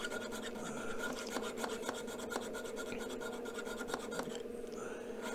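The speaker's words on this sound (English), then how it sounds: "I'm using a chainsaw file, a chainsaw sharpening file on this knife." Steady rasping of a chainsaw file scraping back and forth across a high-carbon steel full-tang knife in a quick, continuous rhythm, close up with no voices.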